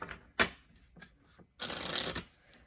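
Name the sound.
shuffling oracle cards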